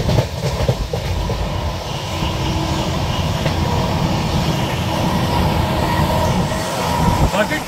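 Onboard the 12276 Humsafar Express running from Delhi toward Prayagraj, a loud continuous rumble of the moving train with rhythmic clickety-clack over the rails, heard close from inside the coach.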